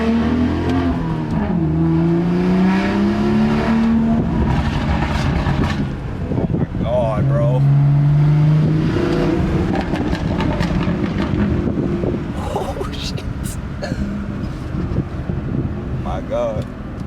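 A car fitted with an MRM downpipe accelerating hard through first and second gear, a loud engine roar rising, dropping at the shift and rising again, with wind buffeting, popping bursts, and someone talking over it.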